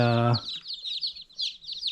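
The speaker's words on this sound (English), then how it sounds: "They start chirping really loud" Silkie chicks peep in a rapid string of shrill, high chirps, close and fairly loud, that follow a brief low clucking or voiced sound at the start.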